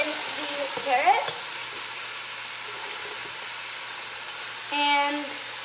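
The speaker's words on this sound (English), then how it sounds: "Next, we're going to put in the carrots" Soft steady sizzle of carrots stir-frying with garlic and sesame oil in a pan, faint continuous frying with a couple of brief stirring scrapes and a quiet voice near the start.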